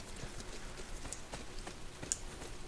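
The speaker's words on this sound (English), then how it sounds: "get on the horse" Horse hooves clip-clop at a steady rhythm in Assassin's Creed 2, a quiet, repeating patter set against a low background bed of game ambience.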